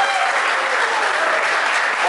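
Audience applause at an annual dinner, a dense, loud wash of clapping from a crowd that stays steady throughout.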